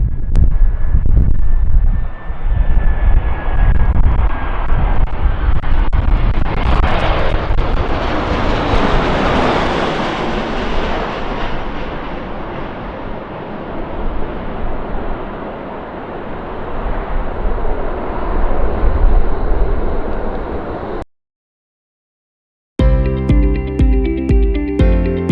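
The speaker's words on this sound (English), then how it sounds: "A Drucker Airbus A319 makes a dramatic, late final turn while approaching the challenging Poro Airport." An Airbus A319 on final approach, making a late turn toward the challenging Poro Airport: a loud, steady jet roar swells and fades for about twenty seconds, then cuts off abruptly before music begins.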